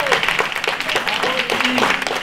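Audience applause at a shared community garden anniversary gathering, honoring its oldest members: a dense brief patter of clapping mixed with voices and cheering.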